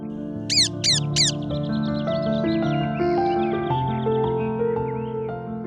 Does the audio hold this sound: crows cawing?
yes